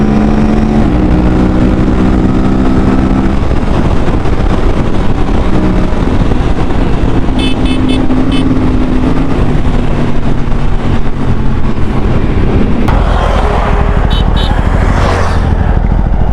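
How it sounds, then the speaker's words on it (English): An Aprilia RS 457 motorcycle cruising on a highway, its engine droning steadily and loud throughout with heavy wind rush, shifting tone partway as the rider works the gears. "It's only when you take it on the highways like this you realize that the bike is less on power."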